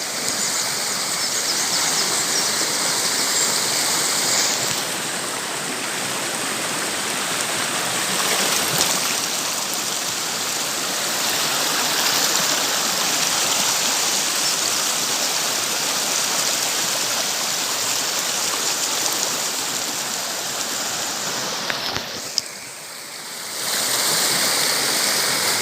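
A waterfall and flowing stream roar steadily up close, a dense, constant rush of water that continues without a break and dips only briefly near the end.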